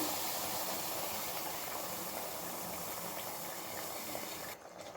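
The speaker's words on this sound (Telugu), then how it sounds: "చూడండి ఇలా ఉడుకుతుంది కదా" A pot of chicken curry bubbles and hisses steadily as it boils, a dense continuous simmer that drops off abruptly at the end.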